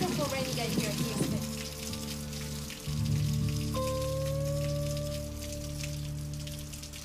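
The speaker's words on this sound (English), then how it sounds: "It's a beautiful rainy day here in Houston." Heavy rain falling outdoors on a wet day in Houston, a dense patter of drops over steady background tones that shift midway, close and continuous with no talk.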